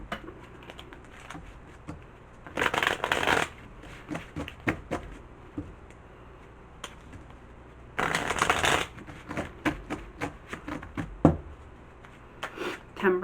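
Tarot cards are shuffled close by in two loud riffling bursts, with scattered light taps and card slaps between and after them.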